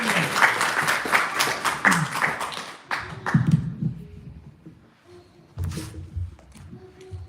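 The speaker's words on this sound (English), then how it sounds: "So let us have a good round of applause for both of them." Audience applause at a Ramayana talk, a dense burst of clapping for the first few seconds that thins into scattered claps and fades, with brief talk and room noise after.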